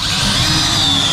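A power drill drives 3-inch screws into an enclosed trailer being built as a pressure washing rig, a loud, steady close-up whine filling the whole moment without pause.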